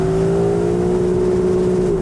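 Lexus LC500 engine accelerating hard in Sport Plus mode, a loud, steady, rising engine roar with a strong tonal drone heard from close by throughout.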